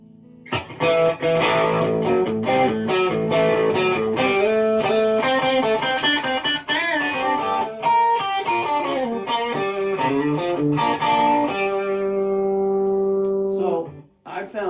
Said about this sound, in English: I can jack the level back up. Dial this into the amount of distortion that I want based on those two channels.